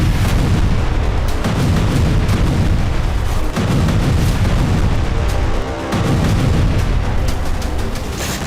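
Bombs exploding over a Gaza refugee camp at night, a continuous loud barrage of deep booms and rumbling blasts layered over one another with no pause and no talk.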